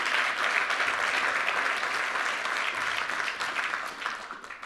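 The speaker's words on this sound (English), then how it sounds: "so let's give them a round of applause." A school audience applauds graduating 12th-grade scholarship students with a steady wash of many hands clapping from across the room, holding for several seconds before thinning slightly at the end, with no talk.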